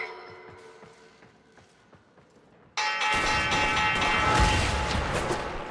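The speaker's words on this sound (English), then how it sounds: "The bell." A bell rings to signal the start of a round in the Warframe video game, sounding a clear, resonant toll that is quickly swamped by a loud burst of booming, clattering combat noise.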